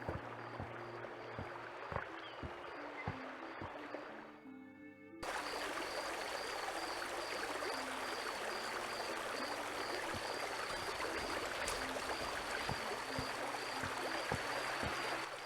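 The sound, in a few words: flowing brook water from a video game, The Night of the Rabbit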